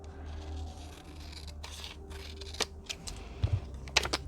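Scissors trimming paper up close, with soft rustling handling at first, then several quick crisp snips clustered toward the end, all quiet with no voices.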